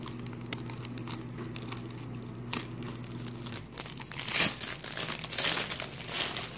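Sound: crinkling plastic leopard print bag

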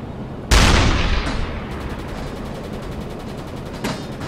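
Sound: gunfire from shooting at a ship in the video game Uboat

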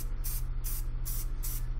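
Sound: spray paint being sprayed

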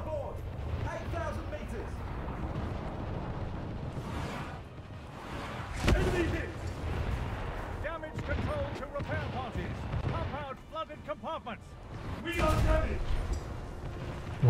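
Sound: destroyer gunfire in a naval battle video game

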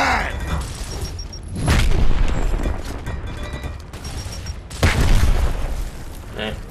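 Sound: frag grenade explosion in the video game Gears of War

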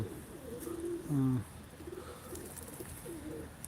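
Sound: pigeon cooing at a live pigeon auction

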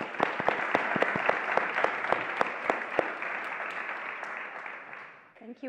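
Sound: audience applause welcoming speakers at event

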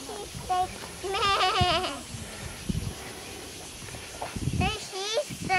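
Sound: sheep bleating at a ranch

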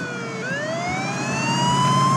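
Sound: fire truck siren in The Sims 3 video game

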